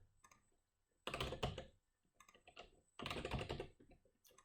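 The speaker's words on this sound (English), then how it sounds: "I'm going to type some garbage in here" Typing on a computer keyboard, two dense bursts of rapid key clicks separated by a few sparse taps, close and crisp in a quiet room, with no talking.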